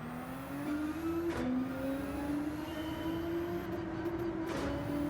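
Nissan GT-R Nismo engine in a racing video game, a steady loud drone rising in pitch through gear changes, with brief shifts and bumps, no talk.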